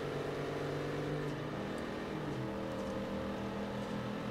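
A V8 car engine in the Forza Horizon 3 racing game, apparently a luxury car, hums steadily at a low, constant drone with faint shifting tones and no talk.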